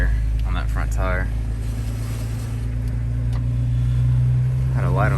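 A wrecked Jeep Wrangler with a low front tire and a crooked steering wheel drives under its own power, giving a steady, loud engine and road drone throughout with a voice over it at the start and end.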